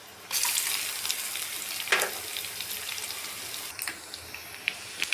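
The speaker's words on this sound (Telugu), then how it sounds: "చట్నీ లేకుండా నేను తాలింపు వేస్తాను చూడండి" Tadka of garlic and spices dropped into hot oil for a raw mango pickle, a sudden sizzling burst that settles into steady frying with a few sharp pops and crackles, no voices.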